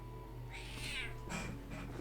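A pet cat meows into a microphone, giving a couple of faint, drawn-out meows over a steady low hum and background noise.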